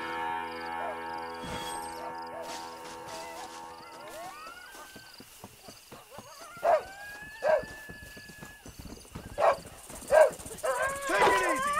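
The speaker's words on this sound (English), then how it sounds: "Take it easy, you stupid dog." In the Western video game Red Dead Redemption, a dog barks several times in separate sharp bursts at a moderate distance, with horse hooves clopping and other game ambience around them.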